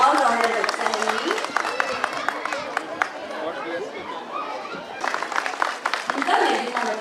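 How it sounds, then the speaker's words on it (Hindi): Audience at a school annual day function clapping and cheering, a dense crowd sound of applause mixed with chatter throughout, swelling louder near the end. "यूकेजी सी से जोरदार ताली बजाइए"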